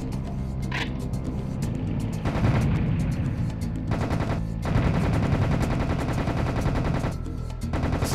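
Rapid gunfire from Serious Sam HD The Second Encounter, dense bursts of automatic shots hammering continuously with heavy low booms, loud and close with brief gaps between volleys.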